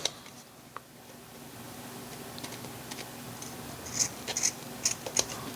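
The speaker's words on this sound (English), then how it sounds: "At least I don't have to worry about ruining those scissors." Scissors cutting by hand, a series of soft crisp snips near the end following quieter rustling, close and alone with no talk.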